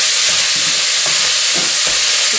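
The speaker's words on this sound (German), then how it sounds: "das Öl ist jetzt heiß, also wandert das Hackfleisch rein. So, das Hackfleisch brutzel ich kurz an." Minced meat sizzles loudly in hot oil in a pan, a dense steady hiss with a few soft stirring scrapes.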